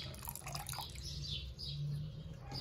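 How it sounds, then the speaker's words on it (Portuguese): Water trickles and drips from the drain hose of a Brastemp Eggo 1 kg mini washing machine (BWI01), a soft, steady liquid flow with small splashes, heard fairly close and alone. "Essa água que vai sair é a aguinha que tá no resto da mangueira"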